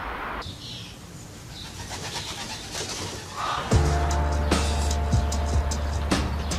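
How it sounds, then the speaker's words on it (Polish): Birds call and coo faintly over a narrow-gauge railway yard in Żnin on a winter morning, with scattered chirps against a steady low rumble that grows louder partway through. "Nad terenem kolejki wąskotorowej krążą ptaki"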